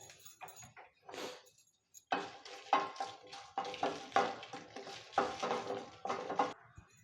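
Chillies dry roasting in a pan for homemade shaak masala, with repeated scraping and stirring scrapes against the metal and light sizzling, coming in irregular bursts after a quieter start, close and moderately loud.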